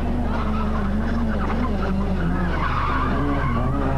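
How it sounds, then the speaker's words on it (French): Ford Escort rally car oversteering and skidding on a stage of the 1993 Ypres 24 Hours rally, a loud continuous tyre squeal and engine drone over a steady low roar, with a commentator talking over it. "Robert Droogmans avec une escorte très survireuse."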